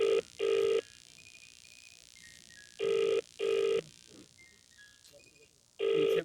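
A telephone rings in regular bursts during a call that goes unanswered, each double ring loud and close, separated by pauses with faint background sounds.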